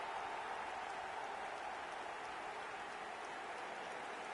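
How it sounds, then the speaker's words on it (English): Steady crowd applause from fans in an eFootball 2023 online co-op match, a dense continuous wash of clapping at low, even level with no voices over it. "Even some of the opposing fans are clapping that"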